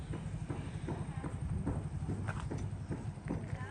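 A horse's hooves clatter in a quick, rhythmic clip-clop as it runs, steady and fairly close, with muffled background noise, in Arunachal Pradesh.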